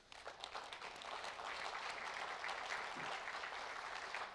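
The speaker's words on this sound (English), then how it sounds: "please, a big applause for our reviewers" A conference audience applauds the reviewers at a plenary session, steady dense clapping throughout, moderately distant and filling the hall without voices on top.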